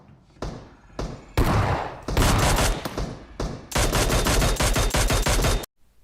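Loud, close bursts of automatic gunfire in the PUBG Mobile video game, dense rapid volleys broken by short gaps, with a long sustained stream of shots near the end before it cuts off.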